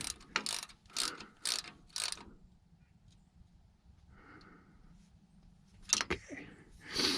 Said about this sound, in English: This was just a couple inch-pounds, so I'll just tighten it up snug.